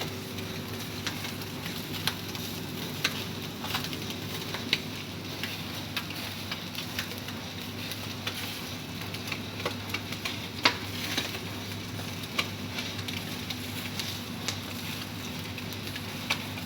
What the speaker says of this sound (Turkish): Evet kebaplarımız şu anda cızır cızır bir şey görüyorsunuz.